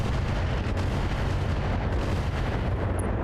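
Mechs firing weapons in BattleTech, a heavy, unbroken wall of booming artillery-like blasts and rumbling impacts, loud and close, with no talk.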